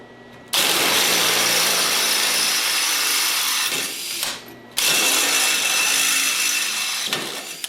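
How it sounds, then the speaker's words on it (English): A drill bores holes in go-kart steering brackets, whining loud and close in two long sustained bursts separated by a short pause. "I'm drilling holes because these brackets have that lug for the bolt."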